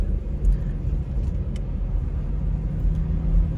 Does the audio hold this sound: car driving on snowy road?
yes